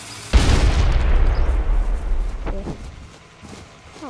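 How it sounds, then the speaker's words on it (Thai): Dynamite exploding in the Roblox Wild West game: one sudden loud blast with a long rumbling, hissing decay, followed by a few faint clicks and a quiet trailing sound. "ได้มีไดนาไมต์อยู่แล้วอึ๊บระเบิดไปกิน"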